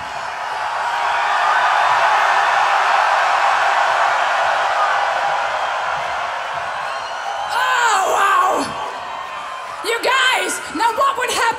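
A large festival crowd at a Nightwish concert at Wacken 2013 screams and cheers in a loud, sustained roar, then swells again in rising yells and whoops near the end.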